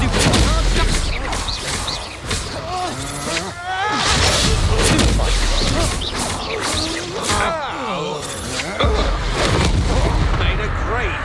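Repeated Bombarda blasting spells burst in Hogwarts Legacy, heavy booming explosions with crashing debris arriving in quick succession amid chaotic battle sounds, while someone talks over the action.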